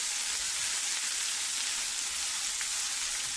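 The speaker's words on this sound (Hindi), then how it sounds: "अच्छी तरह से इसको फ्राई कर लेना।" Sri Lankan sundal with crushed green chilli frying in a pan, a soft, even hiss of sizzling oil that stays steady throughout with no voices.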